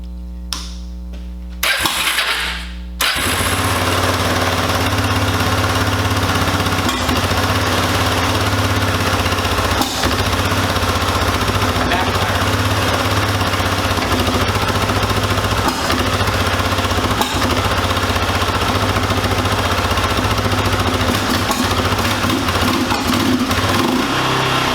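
A used ATV engine, earlier reported as not starting, cranks briefly, then catches and runs steadily at a loud, constant idle close by with a buzzing, uneven putter.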